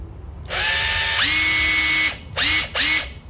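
A Japanese cordless drill in normal mode revs up in a close, smooth whine that climbs in pitch and holds for a second or so, then cuts out and gives two shorter triggered bursts, with no talking.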